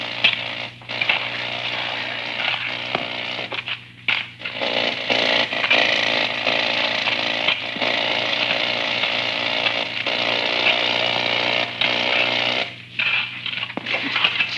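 Mining drills run continuously at close range, a loud, steady grinding roar with brief dips and pauses, and a low hum beneath it.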